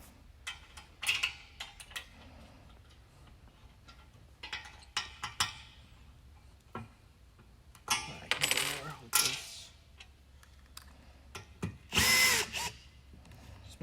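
Power drill driving an Allen key bit, heard in short bursts of whirring and ratcheting separated by pauses, with small metallic clicks and clatter between runs, close by.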